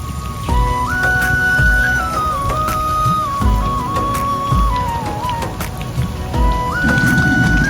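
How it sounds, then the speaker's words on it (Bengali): Steady rain hisses throughout over the haor wetlands of Nikli, Kishoreganj, with a wandering tune playing loudly over it. "এই যে আবারও বৃষ্টি পড়া শুরু হয়েছে"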